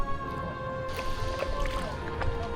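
A kayak being paddled across a bay off Moorea, with soft water sloshing and gurgling against the hull under a steady low hum, close by and continuous, with no talk.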